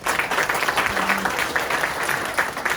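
An audience at a legislative debate forum on protecting traditional markets and small merchants applauds to welcome attendees, with steady sustained clapping from a roomful of people throughout.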